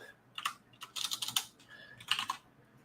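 Quick bursts of clicking keys on a computer keyboard, typed in short irregular runs with brief pauses, close and fairly soft, with no one talking.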